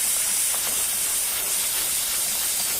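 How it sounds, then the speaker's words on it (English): Brake cleaner sprays in a steady, loud, continuous hiss onto Audi D2 S8 CV joint and driveshaft parts, a close aerosol blast lasting a few seconds with no talking. "Probably need like 10 bottles of brake cleaner."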